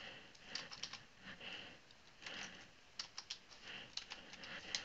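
Typing on a computer keyboard while entering text in a Minecraft JSON creator, quick clusters of light clicking keystrokes, close and soft, with no talking.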